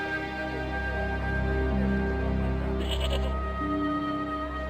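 Goat bleating in the point-and-click game Broken Sword 2: The Smoking Mirror, a wavering, nasal bleat heard clearly over a steady low ambient hum, with a faint high chirp partway through.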